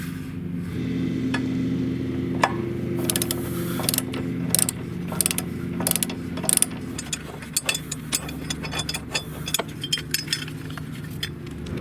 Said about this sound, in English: I use this torque wrench. It's long, so it gives you a lot of angle. And I loosen this bolt right here.